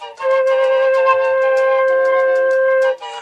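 A steady, clear atenteben flute note sounds with all finger holes properly covered, held evenly for nearly three seconds with slight breathy tonguing pulses before stopping. No one speaks.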